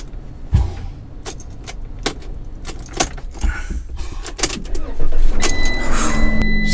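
Car keys jangle in short metallic bursts near a parked vehicle, with clunks and handling noises around them and a motor rising toward the end.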